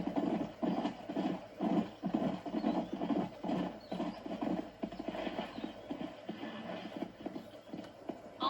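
Rapid clip-clop of horse hooves galloping in a steady rhythm in Red Dead Redemption, with an occasional whinny and no voices over it.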